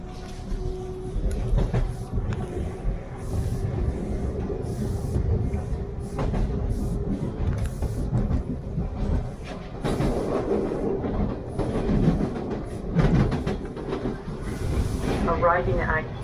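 Toronto TTC subway train on Line 2 rumbling along at steady volume, a continuous low ride noise with rattles and squeaks, with people's voices heard over it now and then.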